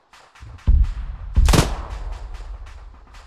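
Gunfire during an Arma 3 co-op mission: several sharp, heavy shots ring out at mid distance, with two louder bursts a second apart and a rolling echo trailing after each, no voices present.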